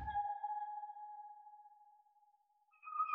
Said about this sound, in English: it's basically just a little synth key that adds some character and texture to the sample